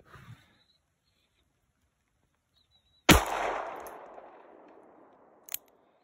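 Two 9mm rounds fired outdoors from a Taurus .357 Magnum revolver using a 9mm cylinder with moon clips: one sharp, loud crack with a long reverberating tail, then a second, shorter shot about two seconds later.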